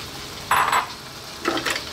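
Cooked spaghetti is stirred and folded into a sizzling bacon and mushroom cream sauce in a hot pan, with two short bursts of scraping and sizzle over a quiet background.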